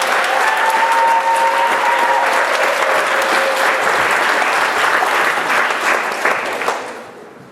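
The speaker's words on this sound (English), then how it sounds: "Let's put our hands together, make a big round of applause" A theater audience at a stage show breaks into a loud, dense round of applause that holds steady for several seconds, then tapers off quickly at the end.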